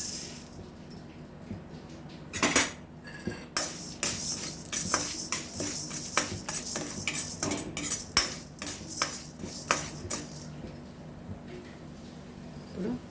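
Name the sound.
roasting urad dal in a pan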